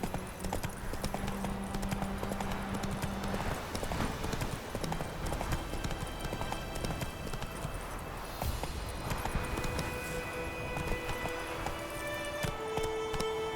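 Roach the horse gallops in The Witcher 3, its hooves clip-clopping fast and steady throughout, layered under game music and ambience.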